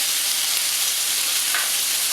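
Stir fry sizzles steadily in a large, wide skillet, a loud continuous hiss of frying food with no pauses, close up and with no voices over it.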